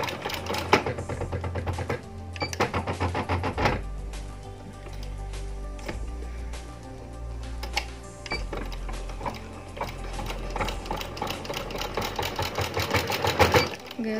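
A sewing machine stitches a fancy sleeve design, its rapid needle chatter running in loud bursts with brief pauses between runs of stitching, no talk over it.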